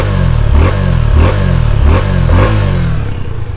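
A 2022 Suzuki V-Strom 250 SX adventure motorcycle revs through its dual exhaust, a loud, close, grunty engine note rising and falling in four regular pulses, with no talking.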